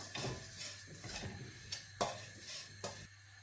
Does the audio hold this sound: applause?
no